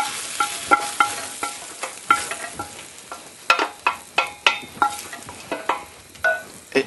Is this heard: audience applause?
no